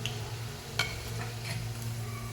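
Pakoras frying in hot oil on a medium flame are stirred in the pan, giving a steady close sizzle with a sharp clink of the spoon or pan partway through and a few light scrapes.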